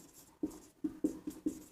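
Chalk or marker strokes on a board, five short distinct taps and scrapes spaced roughly evenly, close and fairly quiet, with no voices.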